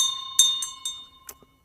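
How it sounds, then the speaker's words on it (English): The large Densho bell at a Zen temple leaves a sustained, ringing tone that slowly fades, with a few soft knocks and rustles over it. "The big Densho bell out there that you just heard"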